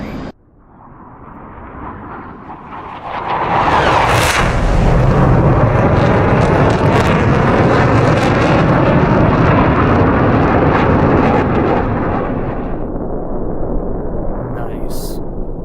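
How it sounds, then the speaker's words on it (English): Jet aircraft roars past in a flight simulator game during carrier operations at about Mach 0.76, swelling quickly into a loud, sustained rushing drone that holds steady and then eases slightly at the end. "let's do a flyby. Let me press F3."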